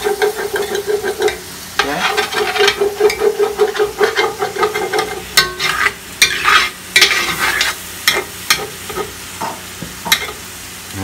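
Water added to a hot pan boils hard and sizzles loudly while a utensil scrapes and stirs browned bits off the bottom for gravy, with rapid irregular scraping strokes over continuous bubbling hiss.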